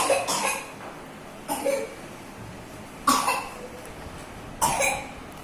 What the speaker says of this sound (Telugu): దగ్గు ఎలా అంటే వాడు బ్రీతింగ్ తీసుకోలేనంత విధంగా దగ్గు.